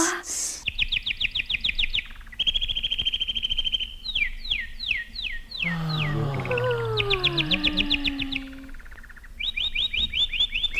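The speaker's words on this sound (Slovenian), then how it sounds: "Tvoje petje je res čudovito, Slavček." A nightingale sings in a fairy-tale audio drama of Andersen's emperor's nightingale. Repeated bright trilled phrases and whistled notes alternate with a lower swooping passage, steady and close throughout.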